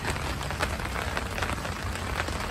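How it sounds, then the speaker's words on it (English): Steady rain falling outdoors in California, a dense, even patter on surfaces close by, continuous and fairly loud, with no talk. "we are finally getting some rain here in California"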